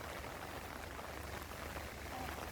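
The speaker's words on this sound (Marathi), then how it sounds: "डोंगरावरून पाऊस चालू आहे" Steady rain on a hillside hiss fills the scene, a dense even patter with no pauses, fairly soft and continuous throughout.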